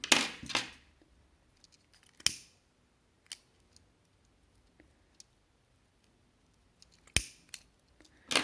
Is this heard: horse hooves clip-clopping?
no